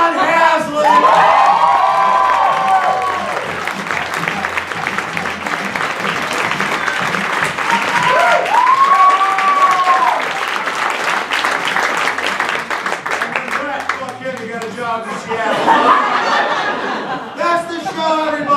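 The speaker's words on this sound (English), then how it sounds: "Give these guys one more round of applause." A comedy show audience applauds and cheers: sustained loud clapping with whoops, shouts and chatter throughout, swelling near the end.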